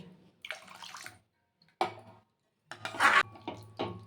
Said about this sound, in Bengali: এবারে এর মধ্যে দিয়ে দেবো পরিমাণ মতন জল আর জলটা কিন্তু একটু গরম জল দেবেন